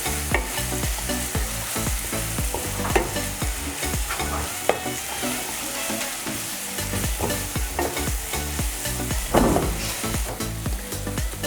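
Paste frying in a pan for dhaba-style okra masala, a steady loud sizzle broken by frequent scraping stirs of a spatula, close up and without any voices.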